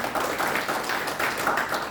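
Church congregation clapping during a sermon at GBI Bethany Poris Garden, a soft, fairly steady patter of hands from a crowd, heard at moderate distance without speech over it.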